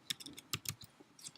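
A few quick keystrokes on a computer keyboard typing a short word, crisp clicks close by and fairly quiet, with no voices.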